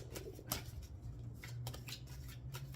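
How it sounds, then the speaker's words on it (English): Cards being handled and pulled from a Romance Angels tarot deck, with soft papery shuffles and slides close up over a quiet background, no talking. "just pull 3 cards from the Romance Angels Tarot or Oracle"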